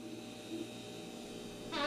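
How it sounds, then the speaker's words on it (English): A refrigerator that has just had its control board replaced gives off a faint, steady electrical hum in a quiet room, with a brief buzzing tone rising near the end. "do you hear that humming in the background?"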